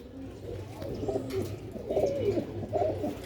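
Pigeons coo in a loft of show pigeons, low soft rolling calls repeating several times at close range over a steady murmur, with no one speaking.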